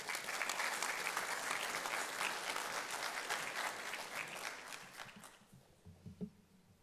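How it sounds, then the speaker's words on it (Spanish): Audience applause greeting a World Bank vice president for Latin America and the Caribbean at a formal report launch, a dense sustained clapping that fades out over the last two seconds, leaving faint room noise. "Lo recibimos con un fuerte aplauso, por favor."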